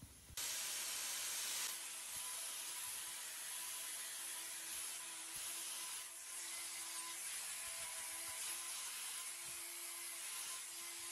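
A cow's hoof is trimmed with a steady, close, hissing grind that runs almost unbroken from start to finish, with a faint higher whine drifting in and out underneath.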